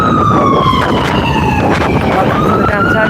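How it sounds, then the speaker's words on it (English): An emergency vehicle siren wails loudly through a city downtown, its pitch sliding down and back up as it passes close by, over a constant roar of street noise. "Can't go a day without hearing sirens like that."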